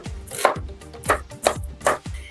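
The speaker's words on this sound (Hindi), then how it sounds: "चलिए इसे भी फटाफट काट लेते हैं।" Knife chopping onion, garlic and green chillies on a board for chutney, four firm, evenly spaced cuts in a quick steady rhythm, close and crisp with no talking.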